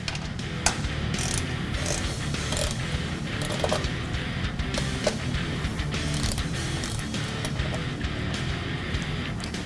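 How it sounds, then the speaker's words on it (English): A ratchet wrench loosens the 7mm bolt on the oil filter access panel of a 2011-2017 Mustang GT 5.0L, giving rapid ratcheting clicks and metallic ticks that continue steadily and close by throughout. "In order to get to the oil filter, you have to remove this access panel, which is held on by a 7mm bolt."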